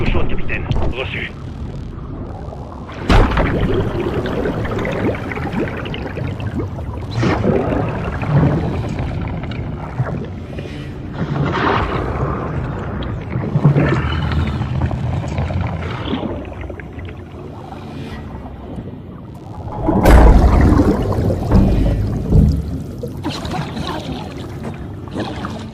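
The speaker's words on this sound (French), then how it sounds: "Le véhicule cible est en train de couler." A target vehicle sinks underwater in a war action film, heard as muffled rushing, gurgling water and deep groaning rumbles. Two louder surges hit partway through and near the end.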